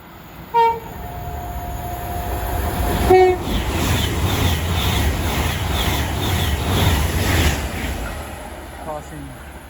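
A Class 390 train rushes through Watford Junction on the West Coast Main Line, a steady roar of wheels with rhythmic clatter and short horn blasts near the start and middle, with faint talking in the background.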